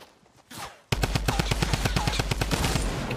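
Automatic weapon fire in Fortnite: after a brief quiet lead-in, a loud, steady burst of rapid shots rattles off in an even rhythm for a few seconds.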